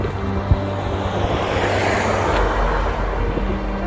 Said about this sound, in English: Oh, he drove past.